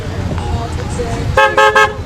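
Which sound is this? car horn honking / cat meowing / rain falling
car horn honking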